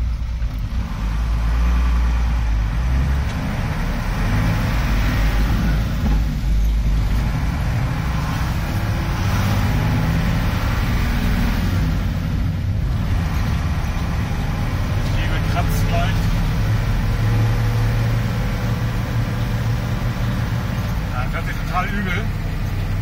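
Steady low rumble inside a moving truck cab, an expedition vehicle base chassis, loud and continuous throughout, with engine drone and road noise dominating.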